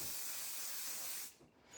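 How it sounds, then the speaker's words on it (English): Hairspray, a Swedish-brand shaping spray, being sprayed on hair during a classic bob haircut, one steady hissing burst lasting over a second before cutting off, close but soft. "I will be going back to using a little bit of the hairspray"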